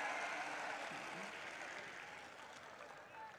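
Applause from a mushaira audience at a Hindi poetry recital, a steady dense clapping that fills the whole stretch and fades only slightly toward the end.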